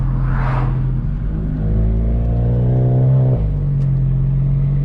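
A VW MK7 GTI fitted with a Mamba GTX3071R turbo drives along, its engine droning loudly and steadily inside the cabin and rising in pitch before a brief dip and settling again.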